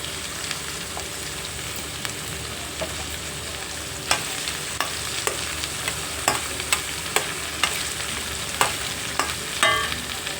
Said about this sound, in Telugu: పోపు అయితే వేగిపోయిందండి